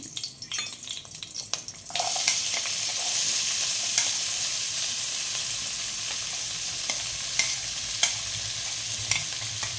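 Chopped onion and curry leaves dropped into hot oil in a pan while cooking mushroom gravy, bursting into a loud, steady sizzle after a quieter start, with occasional stirring clicks and no talking.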